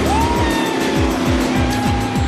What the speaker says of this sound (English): Bikers jump on their motorcycles and burn rubber until the tires blow